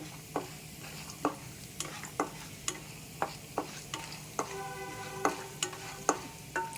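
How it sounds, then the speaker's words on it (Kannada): Food frying in hot oil with a constant soft sizzle, punctuated by regular sharp clinks of a utensil stirring against the pan. "ಇದು ಮೂರು ಚೆನ್ನಾಗಿ ಫ್ರೈ ಆಗಬೇಕು"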